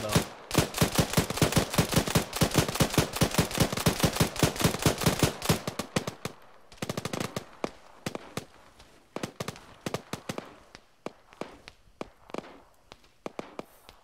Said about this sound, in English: Try not to run in front of the machine gun, though.